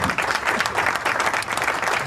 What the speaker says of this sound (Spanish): Le pedimos un fuerte aplauso para él.